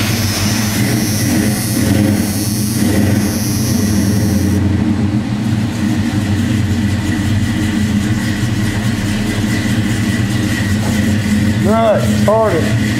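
A 1986 Chevy truck sits idling roughly just after a cold start, its engine a steady low rumble with a brief whining, rising tone near the end, and a voice speaks over part of it.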